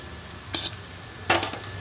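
Spinach being stir-fried and mixed in a pan, a steady low sizzle broken by two brief scraping stirs, close by with no talking.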